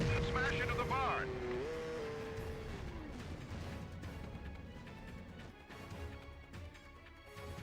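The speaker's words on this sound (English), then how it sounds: "Smash into the barn." Vehicle crashing into a barn in the PlayStation 2 stunt-driving game Stuntman, a loud opening impact with a high whine that drops, then a long rumbling crunch of debris fading out.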